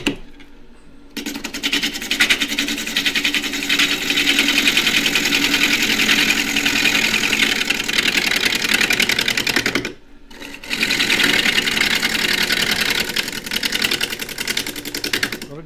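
A wood lathe turns a natural edge claret ash bowl, giving a continuous close whir and scraping hiss from the gouge cutting the wood, with one brief pause partway through.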